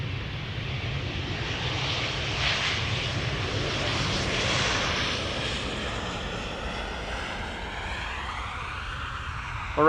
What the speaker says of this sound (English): Iceland Air Flight 500 767-300 arriving from Reykjavik in Iceland